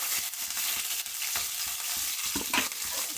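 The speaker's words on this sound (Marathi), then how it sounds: "लसूण छानपैकी असं परतून घेऊया" Chopped garlic and green chilli sauté in hot oil in a pan, giving a steady frying hiss with frequent close spatula scrapes and taps and a slightly louder clatter toward the end.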